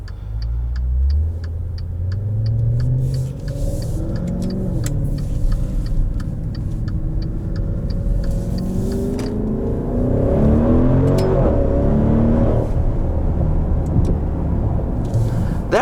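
A 2020 Maserati Levante GTS SUV with a 550-horsepower engine accelerating hard, a deep engine roar climbing through several gear changes, loud and close throughout with steady road rumble underneath.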